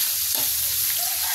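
Chicken gizzards (balon-balunan) frying in hot oil in a home kitchen, a steady close hiss and sizzle with no talking.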